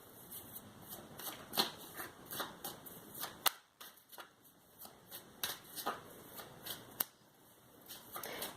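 Tarot cards being shuffled and drawn: quick papery riffles and slaps come in repeated bursts with sharp snaps between them, close and fairly crisp, with no one talking.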